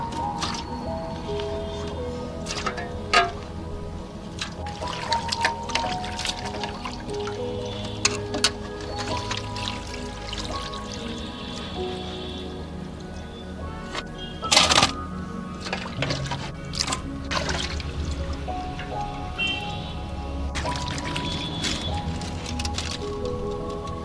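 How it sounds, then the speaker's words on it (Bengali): Cut pieces of rui fish being rinsed in water by hand, with steady sloshing and squishing splashes and occasional sharper clatters, continuous and close throughout. "এবার আমি ধুয়ে নেব মাছগুলো"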